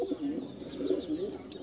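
Madras pigeons coo inside a loft. Several soft, rolling calls rise and fall close by in a quiet setting, with no talking over them.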